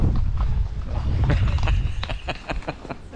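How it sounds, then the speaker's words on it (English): Horse hooves clip-clopping on a horseback trail ride along a Patagonian river, a run of close, irregular hollow knocks mixed with creaks and low rumbling movement noise. "It's like it's a horseback trail ride."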